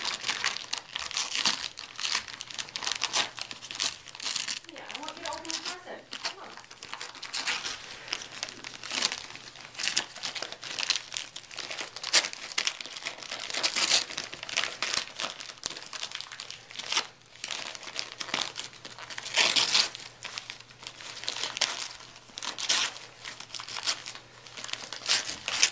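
Wrapping paper on a Christmas gift crinkles and tears continuously and fairly close, in irregular bursts of crumpling and rustling that go on throughout without pause.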